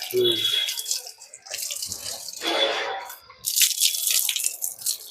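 Water is poured in short splashy bursts and drains away slowly, dripping and gurgling faintly between pours, at a water softener setup in Kanuru, Vijayawada.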